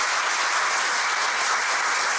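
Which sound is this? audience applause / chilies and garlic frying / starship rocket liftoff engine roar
audience applause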